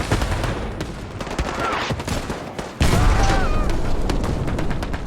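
WWII battle gunfire in the shooter game Hell Let Loose: dense rifle and machine-gun fire crackles in rapid bursts over booming explosions, a loud, continuous barrage that is close in places and farther off in others.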